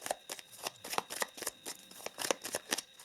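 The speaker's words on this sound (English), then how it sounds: "So I'm just going to shuffle" Tarot cards being shuffled by hand, a quick series of crisp riffling bursts in an irregular rhythm, close and fairly quiet with no talking.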